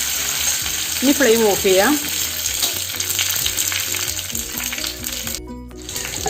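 Half a teaspoon of mustard seeds and curry leaves sizzle in hot coconut oil for a tempering, a continuous close crackling fry with spitting pops. A voice speaks briefly over it.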